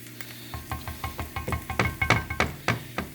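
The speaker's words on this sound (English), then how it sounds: "Just browning up some garlic, just to flavor the pan." Garlic browning in vegetable oil in a pan gives a close, rhythmic crackle of sizzling pops and stirring, each burst rising and fading in quick succession.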